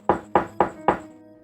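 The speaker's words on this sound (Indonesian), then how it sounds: "Terdengar suara ketukan pintu dari luar." Four firm knocks on a door from outside, evenly spaced about a quarter second apart, close and solid with short thudding decay, no voices.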